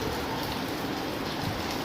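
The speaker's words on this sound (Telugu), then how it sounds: "వాన వచ్చింది లైట్గా, కొంచెమే వచ్చింది." Light rain patters steadily and evenly, a soft continuous hiss with no distinct drops standing out and no voices.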